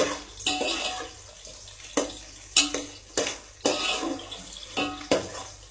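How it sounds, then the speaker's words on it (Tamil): Onions sautéing in a cooking pan: a soft sizzle broken by sharp, repeated scraping and clanking strokes of a spoon against the pan, close and fairly loud, roughly one stroke per second. "ஆனியன் வந்து நல்லா ப்ரௌன் ஆகிற வரைக்கும்"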